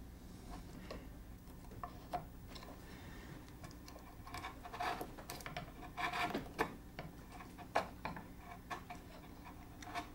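Chisel chopping dovetail sockets in wood at a workbench, a scattering of light taps and sharp cuts at irregular intervals, close and fairly quiet, with no talk.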